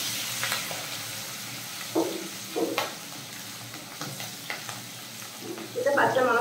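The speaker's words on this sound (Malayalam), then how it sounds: "ഒരു 5 പച്ചമുളകും കുറച്ച് ഇഞ്ചി, ചെറിയൊരു കഷ്ണം ഇഞ്ചിയും, ഒരു 3-4 അല്ലി വെളുത്തുള്ളിയും കൂടെ അരിഞ്ഞതാണ് നമുക്ക് അതിലേക്ക് ചേർത്ത് കൊടുക്കാം" Green chilies, ginger and garlic stirred in a hot pan, with soft scraping strokes and a quiet sizzle that swells louder near the end, close and alone.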